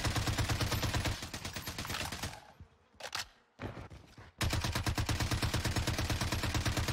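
The Bertha fires in rapid, evenly spaced bursts in the Warzone video game, loud and close, with a brief pause of scattered shots before the fast rhythmic gunfire resumes.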